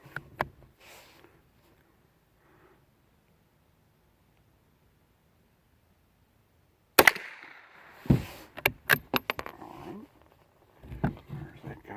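Old .22 rimfire ammunition is fired outdoors. After a long quiet stretch, a run of sharp, close cracks arrives in an irregular string of about six or seven shots, each short and snappy with brief gaps between them.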